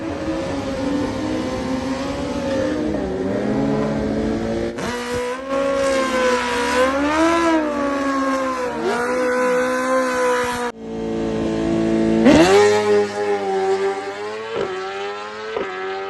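Engine of a drag-racing sport motorcycle screaming through a run, revs climbing steeply through rapid gear shifts with short breaks between them, loud and continuous with no talking.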